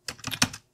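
Fast burst of about five crisp keystrokes on a computer keyboard, close and clear, ending in silence.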